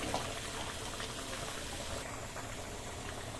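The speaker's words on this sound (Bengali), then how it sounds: "এবার ওগুলো তেলের মধ্যে মশলাগুলো ভেজে নিচ্ছি ভালো করে।" Spices fry in oil for paneer butter masala with a soft, constant bubbling sizzle at low volume, steady throughout without speech.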